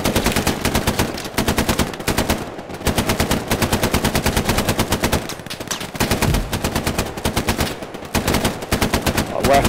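A machine gun in a World War II-style video game at Foy fires in long, rapid continuous bursts with only brief pauses, loud and close, dominating the whole stretch.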